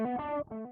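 Guitar played through a Mooer Prime P1 set to a real echo delay, a sustained distorted chord ringing loud and close, briefly cut then restruck, with repeating echoes trailing behind.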